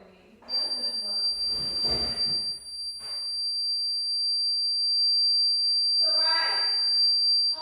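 Home alarm emitting a continuous high-pitched electronic beep tone, sustained and steady for several seconds, while people talk loudly over it nearby.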